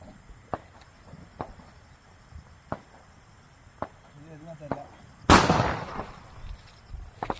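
Small Diwali firecrackers pop in a string of sharp, separate bangs at steady intervals, then one much louder burst near the end tails into a crackling rumble, with faint voices in the background.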